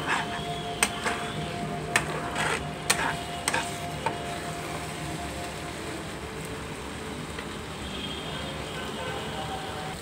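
Raw banana pieces frying in a pan with roasted dry coconut, sesame and urad dal, a steady, even sizzle with a few sharp clinks of a utensil early on.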